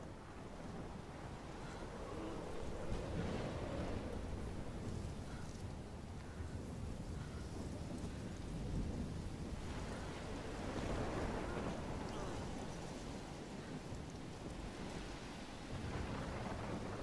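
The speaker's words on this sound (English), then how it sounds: "I've never seen a storm like this in Oregon." A thunderstorm with heavy rain rolls through the game Life Is Strange, steady downpour hiss with deep rumbling thunder swelling and fading over the whole stretch, loud and close, no voices.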